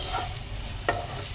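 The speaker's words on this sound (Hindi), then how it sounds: "तो मसाले को अच्छी तरह से हम भून लेंगे शिमला मिर्च और प्याज के साथ।" Masala spices being stirred and fried with capsicum and onion for crispy masala bhindi, a steady low sizzle with soft stirring scrapes and one brief louder clink near the middle, no talking.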